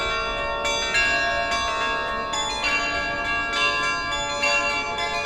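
Carillon bells in Saint-Quentin, played by hand and feet through clappers on the bells, ring out loud and close in a slow melodic sequence of overlapping struck tones with long ringing decay.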